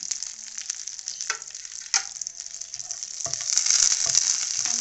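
Dried red chillies and curry leaves crackle in hot oil for a koottu curry tempering, a sharp hissing sizzle with scattered pops and a clack or two, swelling louder toward the end.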